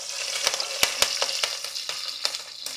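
Whole spices such as cumin, cinnamon, cardamom, cloves and peppercorns with curry leaves frying in oil, a close sizzle punctuated by sharp, irregular crackles and pops.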